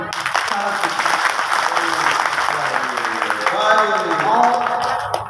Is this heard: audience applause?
yes